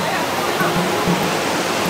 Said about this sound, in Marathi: आपण ह्या सुंदर अशा धबधब्यापर्यंत पोहोचतो